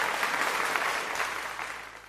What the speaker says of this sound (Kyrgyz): Апаларга бир кол чаап коюңуздар.